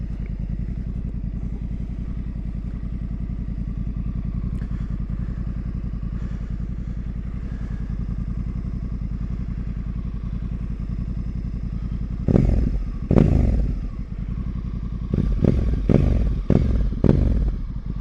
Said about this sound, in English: this fuel exhaust, look at that. That is a thing of beauty, and the sound, oh, it's just amazing.